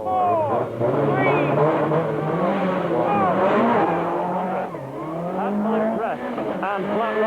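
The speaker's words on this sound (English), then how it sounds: "Wilson really pumped up the revs at the start there, holding it on the handbrake" A rally car's engine revving hard at the start in the 1989 Mobil 1 Rally Challenge video game, rising and falling loud whines with tyre squeal as it launches, beneath steady commentary.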